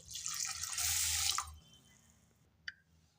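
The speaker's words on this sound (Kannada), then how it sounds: "ಈಗ ಮತ್ತೆ ನೀರು ಹಾಕ್ಯಂತೀನಿ." Water pours steadily onto soaking urad dal, a loud rushing splash for about a second and a half, then a quieter trickle and one sharp drip near the end.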